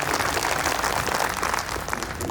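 An assembled crowd at a public gathering in India clapping in their own honour, a dense, steady roar of applause that stays loud and even from start to finish.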